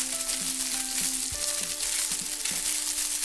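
Food sautés in a pan as part of a Thanksgiving dinner, a continuous close sizzle with a few light knocks and scrapes, and a steady electrical hum underneath.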